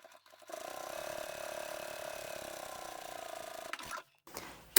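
A sewing machine top-stitching fabric, a steady mechanical whirring run of about three seconds, close and fairly quiet, with brief clicks before and after.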